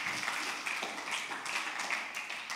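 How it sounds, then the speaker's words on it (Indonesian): Applause from a youth church service crowd, a faint, scattered patter of hand claps from a modest group, uneven and distant, lasting a couple of seconds. "tepuk tangan buat mereka"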